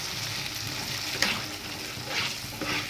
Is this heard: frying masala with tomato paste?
yes